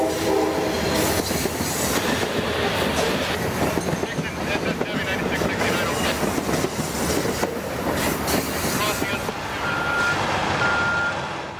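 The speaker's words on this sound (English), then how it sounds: "Capital Corridor train number 535 passes the ballasting operation." A Capital Corridor passenger train rolls past a track ballasting operation beside a railroad museum's new lead track, a loud continuous rumble with wheel clatter and a steady high whine holding throughout.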